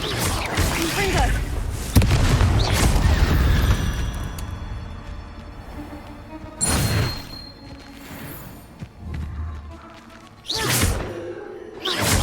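Confringo blasting spells go off in Hogwarts Legacy: several booming bursts with whooshing tails, spaced a few seconds apart, separated by quieter rumbling game ambience.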